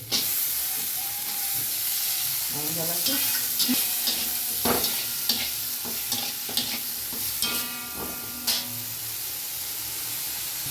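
Bitter gourd sautés in a pan with a little water, salt and turmeric, giving a steady frying sizzle and hiss with scattered stirring scrapes and clinks close by, and no talking.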